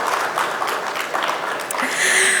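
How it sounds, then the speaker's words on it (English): An audience at a conference applauds for the speakers, a dense, fairly loud wash of clapping that swells slightly toward the end, with faint voices mixed in. "let's have a huge round of applause for all of you present here"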